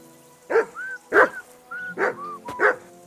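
Five loud, close barks from a dog in Kingdom Come Deliverance 2, a medieval role-playing game, alternate with brief, bright whistled notes in a quick back-and-forth rhythm.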